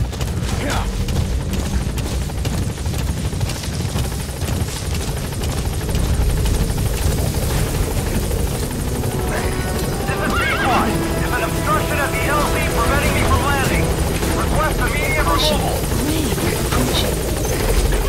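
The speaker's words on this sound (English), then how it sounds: "Support helicopter has arrived." In Metal Gear Solid V, a support helicopter's rotor thrums loudly and continuously at a landing zone, joined by horse whinnies and hoof sounds partway through, with a voice speaking over it.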